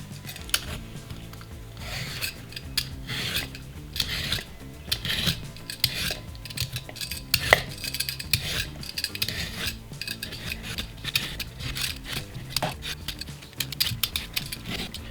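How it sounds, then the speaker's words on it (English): Potatoes being peeled for roasted garlic mashed potatoes: steady rasping scrapes of a peeler against the skin, close and continuous, with small clinks and no talking. "Preparing the potatoes, I'm just going to peel them, rinse them off, and slice them up."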